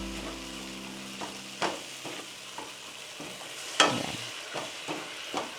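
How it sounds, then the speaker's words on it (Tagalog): Sautéing in fish sauce in a pan, with a soft continuous sizzle under repeated scraping stirs and clanks of a spatula. A brief spoken word is heard. "Gusto ko lang siya igisa sa patis."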